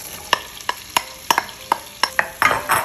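Onions stirred into melted butter in a Staub cast-iron cocotte, a series of distinct close scraping clicks and taps at an uneven rhythm, with a soft sizzle building toward the end.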